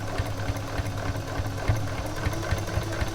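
A Janome sewing machine stitches in a steady mechanical run with regular needle thumps, fairly quiet and close, with no talking.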